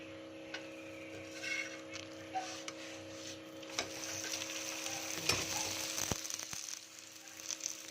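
Aloo paratha frying with ghee on a hot tawa, a low steady sizzle with light ticking and scraping as it is brushed and turned, alongside a faint steady hum.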